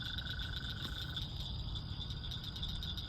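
Small Woodhouse's toad out in the field at night, its call heard near and rising over a steady chorus of insects and frogs for the first second, then giving way to the continuing hum of night creatures.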